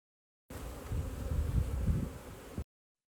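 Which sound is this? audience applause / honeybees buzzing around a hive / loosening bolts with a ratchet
honeybees buzzing around a hive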